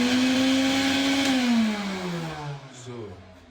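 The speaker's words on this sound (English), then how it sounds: "you can also use it for blender also." A blender powered by a 3 kW solar system whirs loudly up close, its motor pitch sliding downward as it winds down and fades, with a voice speaking over it.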